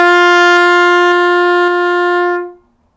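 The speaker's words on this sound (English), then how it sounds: "And the G is open, and it sounds like this." A trumpet sounds an open G with no valves pressed, one long steady, bright brass note held for about two and a half seconds before stopping cleanly; loud, close and alone.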